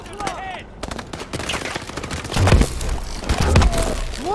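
Dense video game gunfire in Call of Duty: Advanced Warfare, with rapid bursts of rifle shots and heavy booming impacts building in loudness amid battle effects and brief voices.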